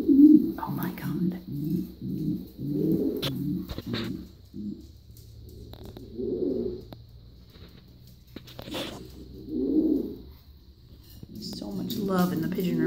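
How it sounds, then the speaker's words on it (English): Pigeons coo in a pigeon loft, soft, repeated throaty bursts close by, with brief pauses between calls and faint rustling. "Love in the pigeon room right now."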